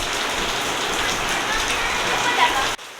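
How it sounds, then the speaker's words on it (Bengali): Heavy rain pours down steadily in a dense, loud hiss that holds throughout, then cuts off abruptly near the end. "আবার সে বৃষ্টি শুরু হয়ে গেল দেখতেই পাচ্ছ"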